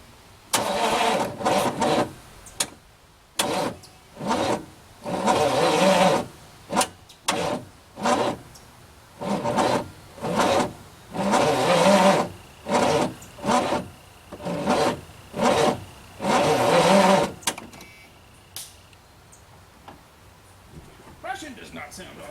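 A 1982 Chevrolet Impala that sat unused for years cranks over and over in rhythmic bursts, the starter grinding a dozen times without catching, with a voice speaking briefly between attempts.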